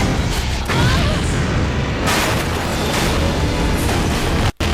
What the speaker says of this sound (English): I'll let you see this because I know how much people like explosions in video games